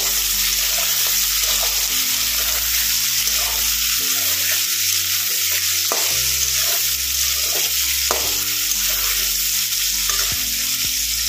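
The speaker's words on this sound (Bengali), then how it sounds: "এবার দিয়ে দেবো পেঁয়াজ, ধরে একটু লাল লাল করে ভেজে নেবো।" Onions fry in a pan for pork curry, a loud, dense, continuous sizzle with stirring scrapes, close and steady throughout with no talking.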